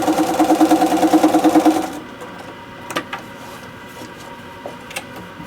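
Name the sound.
sewing machine stitching foundation-pieced quilt fabric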